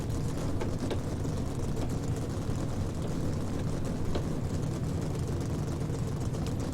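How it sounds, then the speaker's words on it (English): Race car engines in the NASCAR Racing 2003 video game roar together as a steady, loud, dense drone that holds without a break and has no talk over it. "Drivers, start your engines."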